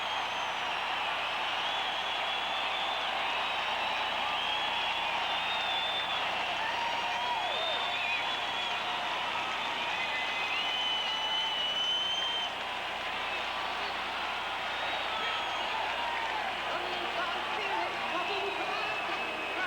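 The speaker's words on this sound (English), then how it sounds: "Let's listen to the crowd and soak in the final seconds of this game" A large NFL stadium crowd of about 74,000 roars and cheers continuously in the final seconds of a Cowboys at Bills game, a dense, sustained wash of voices that stays loud for the whole stretch.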